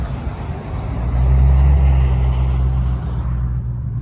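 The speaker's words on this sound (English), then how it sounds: "Look at all this traffic, bro." Heavy road traffic rumbles around a Dodge Hellcat on the move, a loud, low engine and road drone that swells in the middle and eases toward the end, with no talking.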